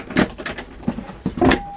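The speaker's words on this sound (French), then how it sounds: "Donc là on a un tiroir coulissant ici." A sliding drawer in an Autostar LP58 camper van rolls open and shut with a series of short wooden knocks and rattles, close and fairly loud, ending in a firm thud.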